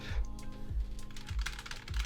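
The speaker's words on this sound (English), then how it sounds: "So if I go up here, for example, and I type," Soft, rapid key presses on a white Logitech G915 TKL wireless keyboard patter close by at low volume over a faint background hum.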